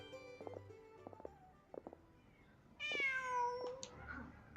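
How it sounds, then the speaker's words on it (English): A cat meows in the Genshin Impact video game, a few short calls at first, then a louder drawn-out meow over soft background music, with no talk. "Just a cat."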